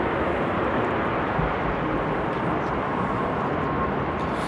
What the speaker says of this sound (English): some random orange thing taxiing by, and the Emirates A380